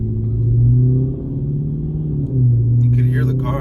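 Cabin drone from a car fitted with an aftermarket no-drone exhaust, a steady low engine hum heard from inside that swells slightly twice, loud and close, with a brief higher noise near the end.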